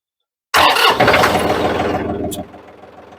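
A John Deere 790 tractor engine cranks and catches after a short silence, running loud and close with a rough diesel chatter before settling back into a lower idle.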